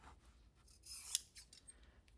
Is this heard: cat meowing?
no